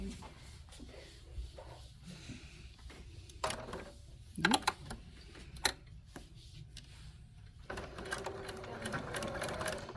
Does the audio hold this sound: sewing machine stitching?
yes